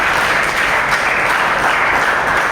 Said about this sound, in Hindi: please put your hands together for the CEO and founder of Four Seasons